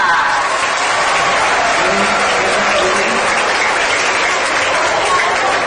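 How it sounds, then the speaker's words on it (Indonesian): Loud, continuous applause from a school crowd at an Independence Day event, a dense, even roar of many hands clapping that holds steady for the whole stretch. "Tepuk tangan yang meriah."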